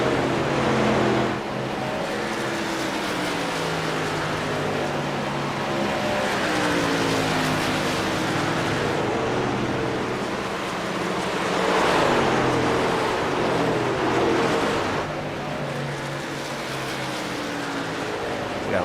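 Race cars on an oval racetrack during a contender series event, a steady roar of engines passing at close range with rising and falling sweeps, an announcer talking over it.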